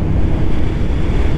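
Steady, loud pre-rain wind gusts roar across the microphone in a dense, unbroken rush with no other clear sounds.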